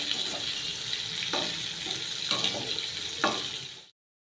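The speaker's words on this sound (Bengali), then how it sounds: "এই যে পটলগুলো দিয়ে দিয়েছি ভাজা হোক এবার" Pointed gourd (potol) frying in a pan of oil after potatoes: a steady close hiss of sizzling, broken by a few louder bursts of spatter as the pieces are stirred or turned.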